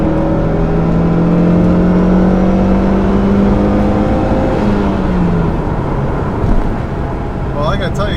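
A 2.4L turbocharged car accelerates hard, engine note climbing steadily and dropping at a gear change, loud and close throughout.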